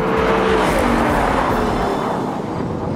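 A 2020 Toyota Supra and a Mustang GT drag race side by side on a track, their engines roaring loud and close under hard acceleration with a sustained, rising drone; no talking.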